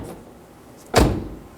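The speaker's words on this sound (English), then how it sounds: "So just give it a nice pull and make sure it closes without any issue." The front door of a 2013-2019 Nissan Sentra is pulled shut after a new exterior handle is fitted, closing with one solid thud against a faint background hiss.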